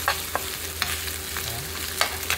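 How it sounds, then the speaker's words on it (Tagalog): Ground meat for tofu sisig frying in a pan with a steady low sizzle, broken by a few light spoon scrapes and taps, close by with no talking. "medyo naluluto na yung ating giniling"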